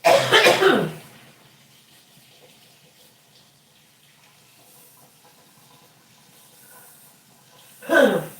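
Two short bursts of coughing, one at the start and one near the end, separated by a long quiet stretch with faint background noise.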